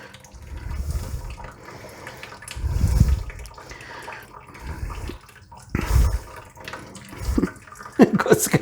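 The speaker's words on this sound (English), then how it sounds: "Let most of the water drain out." Water drains and trickles out of a pot of soaked beans, a steady wet rush with a few louder gurgling surges, alone without talk.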